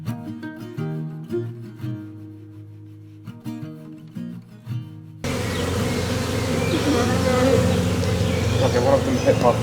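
Honey bees buzz around hive frames on a New Zealand homestead, a dense, steady swarm hum that swells and stays loud and close after a few seconds of quieter tones.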